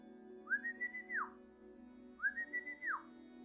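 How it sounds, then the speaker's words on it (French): A faint two-part whistle used to call a dog, each phrase a short rising-and-falling warble, heard twice in the quiet night. "Le son d'un sifflement."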